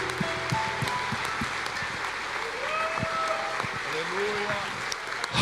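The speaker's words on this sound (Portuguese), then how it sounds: "Eu estabeleço isso com palmas em nome de Jesus." Congregation in a church clapping together under ongoing speech and music, a steady dense patter of hands at moderate level throughout.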